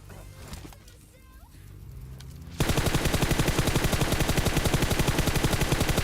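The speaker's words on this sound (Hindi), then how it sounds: "एक बंदा यार काफी देर से फायरिंग कर रहा है" PUBG gunfire: after a quieter stretch of faint game noise, a loud sustained automatic burst starts abruptly and rattles on rapidly to the end.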